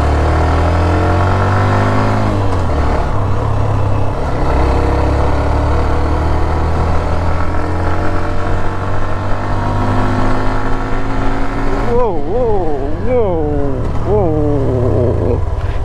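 A Hero Xtreme 125R motorcycle rides through the monsoon, its engine droning loudly and close with rises and drops in pitch as gears shift, wind rush over it and repeated quick revs near the end.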